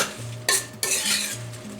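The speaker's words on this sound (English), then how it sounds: "We're going to stir them up and make sure that they are coated" Seasoned vegetables tossed with red pepper flakes are stirred to coat them, giving two short scraping bursts of utensil against a bowl or sheet pan, close and alone.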